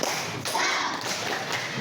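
Schoolchildren in a classroom doing a rhythmic 'tepuk semangat' clap routine during a lesson, quick patterned claps mixed with children's voices, fairly close and lively.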